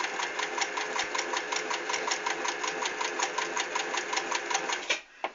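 A sewing machine runs a zigzag stitch with a fast, steady mechanical whirr and a regular rapid pulsing, close and fairly loud, stopping abruptly near the end with a small clunk.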